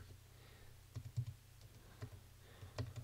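Code is typed on a computer keyboard while working in Xcode 5: sparse, irregular clusters of close key clicks and taps, with no talk.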